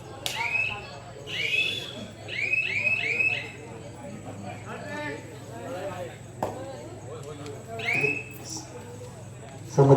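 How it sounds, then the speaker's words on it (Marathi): An electronic buzzer at a kabaddi tournament sounds in several short repeated bursts, loud and close, while a commentator talks over it and crowd noise hums underneath. "बजर वाजलेला आहे."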